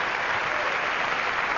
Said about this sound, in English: You can applaud if you wish.